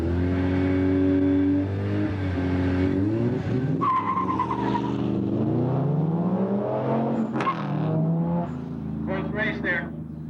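Drag race cars launch and run down the strip, with loud engine revving rising and falling, tire squeal and skidding, and a commentator talking over the noise throughout.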